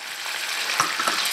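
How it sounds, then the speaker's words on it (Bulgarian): Butter sizzles in a pan with a little cooking oil added, a close, continuous crackling fry with small pops and a few stirring scrapes, no talking. "малко да се капне олио, като се пържи масло"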